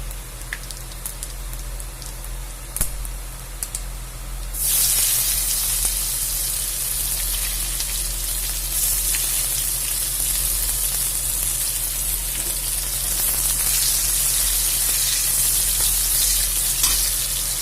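Chopped onion hits hot mustard oil in a kadai with a whole chilli, bay leaf and five-spice, bursting into a loud, steady sizzle that continues evenly with faint stirring and no talk.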